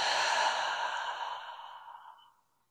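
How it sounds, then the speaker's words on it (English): One long, deep exhale through the mouth during a guided mindfulness breathing exercise, a close, breathy rush of air that fades out over about two seconds into silence. "and then exhaling through your mouth. Taking another nice deep breath."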